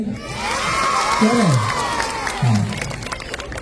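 Audience at a stage show, clapping mixed with crowd cheering and shouts, loud and sustained throughout, with a voice calling out over it.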